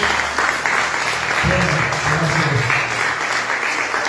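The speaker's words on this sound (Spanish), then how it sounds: "Dale un fuerte aplauso a Jesús" A church congregation breaks into loud, sustained applause during worship, a dense wash of clapping close by with a low tone and voices murmuring beneath it.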